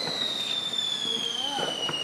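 Fourth of July fireworks bursting outdoors amid a continuous rushing, crackling din with a high whistling tone, while people nearby talk and react.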